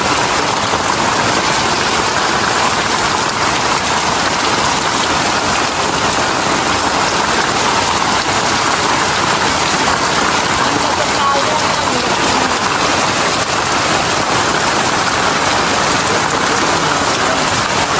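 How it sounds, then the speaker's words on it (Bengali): Heavy village rain with wind pours down in a dense, continuous hiss and patter close by, steady and loud throughout with voices faintly beneath it. "ভালোই বৃষ্টি দিয়েছে আজকে"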